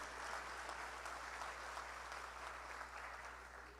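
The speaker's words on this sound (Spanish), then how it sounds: "ese aplauso distinguido para ellos." Steady applause from an audience at a political party founding event for Fuerza del Pueblo, dense and sustained throughout with a constant low hum underneath and no talking.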